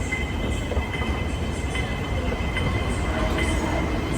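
Airport train at Hong Kong International Airport, a loud steady interior rumble and rolling hum of the railcar in motion with faint wheel squeal, continuous throughout and heard from inside the carriage.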